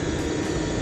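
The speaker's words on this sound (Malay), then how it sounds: "Tu bunyi dia punya cooling system lah running." A Higer Ace electric vehicle's battery and motor cooling fan runs in a steady, close whirring drone with an even broadband hum and no change in pitch, and no one speaks.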